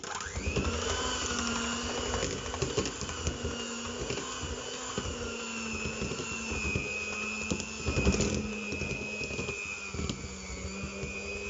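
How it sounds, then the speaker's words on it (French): Electric blender or mixer running steadily while beating milk and flour into a smooth fritter batter, a continuous whirring motor drone with a slight rising pitch at the start and rattling, sloshing texture throughout, no talking. "On va mixer le tout, bien mélanger surtout."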